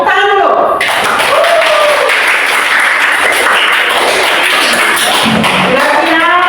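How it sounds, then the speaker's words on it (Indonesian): Loud, sustained clapping from a classroom audience fills the space, a dense wash of hands with some chatter underneath. "tepuk tangan dulu."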